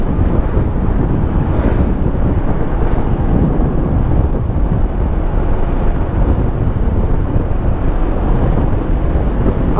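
Heavy wind buffets the microphone while riding a Honda ADV 160 scooter on a road tour in Quezon, a constant loud low roar masking nearly everything else.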